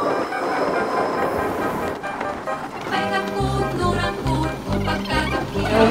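A train on the airport railroad line pulls into a station in Korea with a loud rumbling wash, then rhythmic clacking and mechanical tones as it arrives, close and filling the space.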